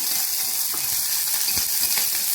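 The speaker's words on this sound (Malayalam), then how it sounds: "പച്ചമുളക് കരിയാപ്പില ഇഞ്ചി വെളുത്തുള്ളി നമുക്കിട്ട് കൊടുത്തൊന്ന് ചൂടാക്കാം" Green chili, curry leaves, ginger and garlic frying in hot oil for a pickle, a steady close sizzle with a few soft clicks of stirring, no voices.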